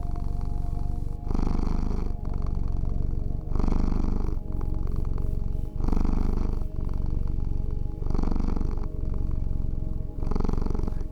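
A cat purrs steadily up close, each breath a long rumbling stretch broken by short pauses, repeating evenly and alone.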